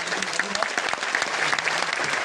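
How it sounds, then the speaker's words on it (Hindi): An audience at a gathering gives loud, sustained applause, dense clapping filling the whole stretch evenly, with some voices mixed in. "इन सभी लोगों के लिए चाहूँगा एक जोरदार ताली होनी चाहिए"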